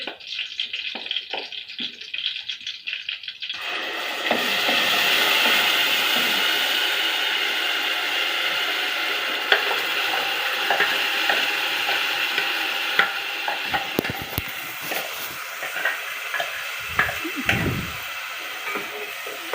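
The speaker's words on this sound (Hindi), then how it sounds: "मीडियम गैस करेंगे और अच्छे से मसाले को हम भूनेंगे" Ground masala stirred and fried in a pan for dhaba-style egg curry, starting with a few scrapes and then a loud, steady sizzle under repeated stirring and spoon scraping, with no talking.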